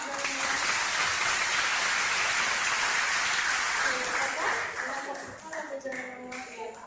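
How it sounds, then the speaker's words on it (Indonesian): Audience applause during a motivational seminar photo moment, a loud dense wash of clapping that tapers slightly near the end as voices come through underneath. "Oke, tepuk tangan."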